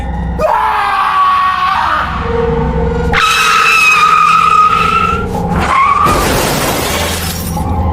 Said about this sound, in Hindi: अरमान चीखा और गाड़ी कंट्रोल से बाहर हो गई।